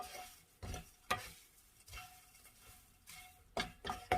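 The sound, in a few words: stirring seasoned laver (gim jaban) in a pan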